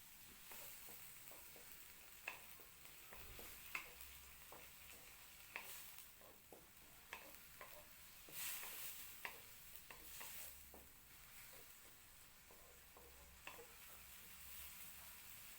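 Gourami fish fried in galangal spice paste is stirred in a pan, with a steady low sizzle and repeated soft scrapes and taps from the spatula, quiet and close, with no voices.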